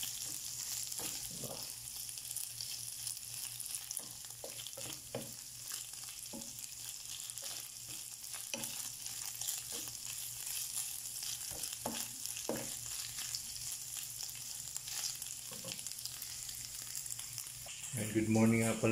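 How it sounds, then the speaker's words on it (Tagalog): Fried rice frying in a pan, a steady hiss of sizzling oil broken by frequent scraping and clinking strokes as it is stirred, with faint talking now and then. "Fried natin para mas masarap yung lutong-luto."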